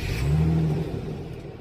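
A 3.7-litre Infiniti QX70S engine turns over and catches, rising briefly in a close revving whir before settling toward a steady idle.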